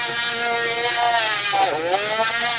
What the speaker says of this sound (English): so I need to like Dremel it out